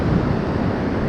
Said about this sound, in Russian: Океан. Точно, что океан.